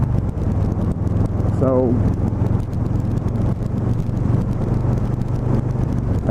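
A 2018 Harley-Davidson Softail Low Rider with its 107 cubic inch Milwaukee-Eight V-twin rumbles underway, a low, steady engine drone buffeted by wind noise while a rider talks over it.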